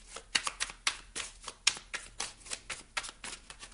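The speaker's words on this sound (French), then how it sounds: "On va rebrasser le jeu" A deck of playing cards being shuffled up close, with a quick series of crisp riffling flutters and snaps in an irregular rhythm, fairly loud and with no talking.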